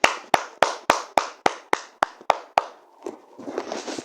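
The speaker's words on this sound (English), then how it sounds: "Clap for him." A single person clapping hands in about ten sharp, evenly spaced claps close up, followed by softer rustling.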